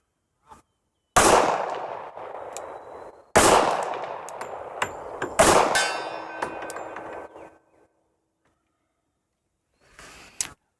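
Three loud, sharp gunshots from a Tisas 1911 A1 .45 pistol sound up close and are spaced a couple of seconds apart, each trailed by a ringing metallic echo; a faint click comes before them and another after.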